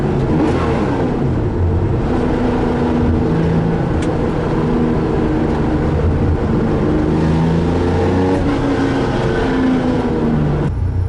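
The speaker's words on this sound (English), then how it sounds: "It is the Carrera RS, a 1973 model." A 1973 Porsche Carrera RS drives along, its engine note steady and loud from inside the cabin, with gear changes and slight revving heard throughout and no talking.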